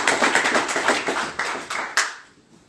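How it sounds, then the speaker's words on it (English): An audience at a kindness podcast event claps, a short burst of brisk applause with scattered hand claps that thins out and fades to quiet. "Come on guys, let's give it a clap."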